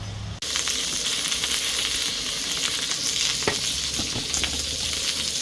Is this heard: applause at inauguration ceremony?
no